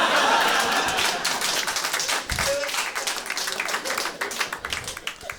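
Audience applause at a stand-up comedy special, a dense burst of clapping that is loudest at the start and thins into scattered claps, with faint laughter mixed in.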